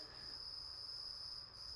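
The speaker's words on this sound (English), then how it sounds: "you can definitely hear those crickets" Crickets chirp in a steady, high-pitched continuous trill, fairly faint, with a quiet background hum, heard from a garage.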